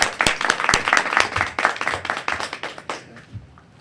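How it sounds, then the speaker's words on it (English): Studio audience applause for the Toastmaster at a televised Toastmasters club meeting, a burst of individual hand claps from a modest crowd that thins out and fades toward the end. "Please help me get our meeting started off today with a warm round of applause for our Toastmaster,"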